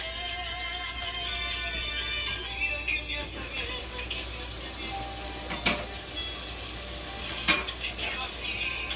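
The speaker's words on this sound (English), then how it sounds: "you just let it sit and simmer" Aloe vera simmering in a pan of oil gives a steady soft sizzle and hiss, with a couple of brief clinks from a utensil against the pan, close and continuous.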